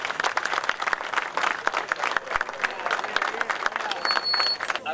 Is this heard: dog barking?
no